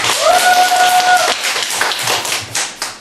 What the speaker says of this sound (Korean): 우리 박수로 모실까요?